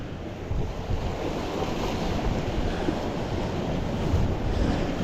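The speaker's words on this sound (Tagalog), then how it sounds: "Lalakas ng alon." Strong ocean surf crashes and churns steadily from close by, a broad roar of rushing water mixed with heavy wind buffeting the microphone, with no voices over it.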